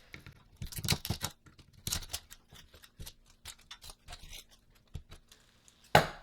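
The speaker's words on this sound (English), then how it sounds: "Feels good to cut something apart." Scissors snip through thrifted clothing in a quiet room, a run of crisp close cuts early on, then scattered single snips and rustling fabric, ending with a sharp louder snap.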